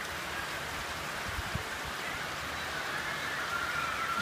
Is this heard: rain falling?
yes